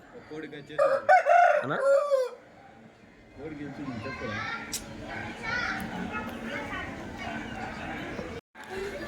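A rooster crows loudly and close by near the start, then chickens cluck and fuss amid steady farmyard background noise.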